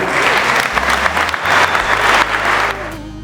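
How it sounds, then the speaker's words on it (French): Wedding guests clap right after the couple's vows, a loud, close, continuous round of applause with a faint low hum beneath that fades slightly toward the end. "Bon, on applaudit."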